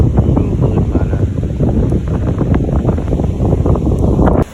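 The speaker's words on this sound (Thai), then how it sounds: "ลมแรงมาก" Strong wind batters the microphone of a vehicle driving on a road as rain arrives at dusk, a loud continuous roar with rumbling gusts and no pauses.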